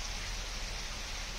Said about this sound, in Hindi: कोंडा गांव में झमाझम बारिश हुई